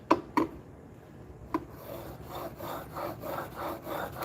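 A blade is sharpened on abrasive grit, giving a few sharp knocks at the start and then a rhythmic, gritty back-and-forth rubbing that repeats steadily at a moderate level.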